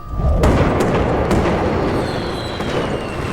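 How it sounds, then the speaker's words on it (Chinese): Fireworks go off at a temple: a deep booming launch followed by sharp, loud bursts and a spreading crackle with faint whistling trails, heard close and alone. "青山寺又放烟花了"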